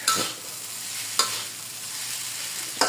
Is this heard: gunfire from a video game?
no